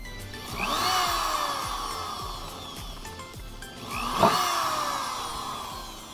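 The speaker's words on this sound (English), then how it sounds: "I'm just going to drill 2 little holes here" Two whirring bursts of a power drill spinning up and boring, rising and falling in pitch, with quieter tool noise between.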